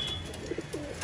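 Racing pigeons at a pigeon tournament give a few soft, low coos in quick succession, faint over a hissy outdoor background.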